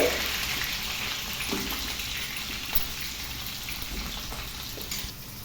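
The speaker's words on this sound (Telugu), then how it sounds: "ఇప్పుడు సన్నగా తరిగిన ఉల్లిపాయ ముక్కలు వేసుకోవాలి." Chopped onions and mint frying in hot oil give a continuous crackling sizzle, moderately loud and steady throughout the short stretch.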